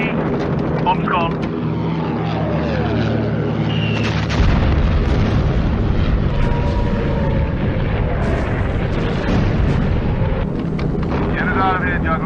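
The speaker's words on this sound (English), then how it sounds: "Bomb's gone." Bombs dropped from a bomber aircraft explode as heavy, rumbling booms over a constant engine drone, with a voice talking over the noise.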